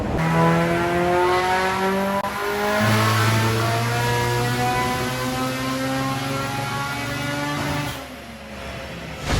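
Vauxhall Astra VXR van, tuned past 800 hp with anti-lag, revs hard under rising boost. The engine note is loud and continuous, with harmonics that climb and hold and then drop near the end, and no voices are heard.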